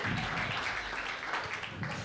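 An audience claps steadily for a speaker being welcomed onto a tech conference stage, a continuous dense wash of applause at moderate distance without clear voices.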